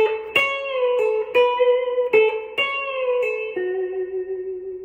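An electric guitar plays a riff: a steady run of about six picked melodic notes in an even rhythm, ending on a held lower note, with light reverb and no talk.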